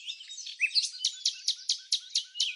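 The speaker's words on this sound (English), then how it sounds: "Let's meet the bright and charming white-cheeked bulbul." A white-cheeked bulbul sings close by, a quick run of bright notes settling into about eight evenly spaced, repeated chirps.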